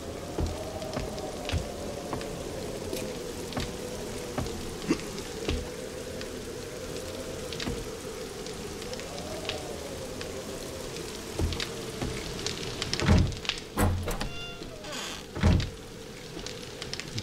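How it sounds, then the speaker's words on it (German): Steady rain patters in the survival game 7 Days to Die, a continuous close hiss with scattered sharper drops and a few louder knocks near the end. "Oh, schon wieder Regen."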